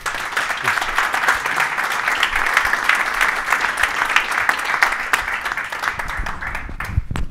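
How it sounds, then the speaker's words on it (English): A conference audience applauds for a presenter, a dense, steady wash of many hands clapping that holds for several seconds before thinning out at the end. "a big round of applause for Ian here"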